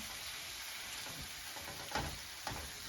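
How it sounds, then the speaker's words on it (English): Beef strips frying in a pan for Philly cheesesteak sliders give a steady, even sizzle, with a couple of short metallic clinks from a spoon near the end. "Everybody knows it takes beef absolutely no time to cook."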